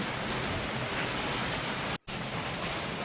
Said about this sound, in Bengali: এখন মানে তুমুল বৃষ্টি হচ্ছে